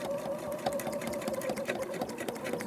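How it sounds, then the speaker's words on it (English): A sewing machine runs steadily at close range, doing free-motion straight stitching with a fast, even mechanical hum and needle clatter throughout, with no pauses. "So basically what I'm going to do is free motion. I'm just going to do a straight stitch"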